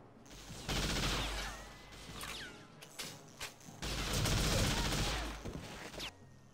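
Rapid automatic gunfire bursts in the video game TimeSplitters Future Perfect, two long loud volleys separated by a short gap with a few scattered shots, echoing and crashing with no speech.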